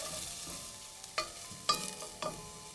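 Mushrooms sautéing in a pan for congee, a soft low sizzle with a few sharp stirring clinks and scrapes, close and fairly quiet.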